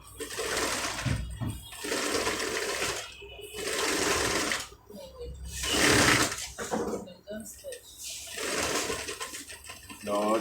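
Sewing machine stitching fabric for gathering, running in several short bursts of rapid whirring and clatter separated by pauses, close and moderately loud, with a voice speaking between runs.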